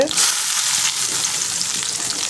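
Mustard seeds and chopped onion hit hot oil in a home kitchen, making a loud, dense, continuous sizzle close by with faint stirring, and no one speaks.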